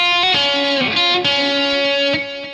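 A distorted electric guitar plays a sweep-picking exercise, ringing arpeggiated notes picked in quick succession with sustained tones, close and loud, with no talk.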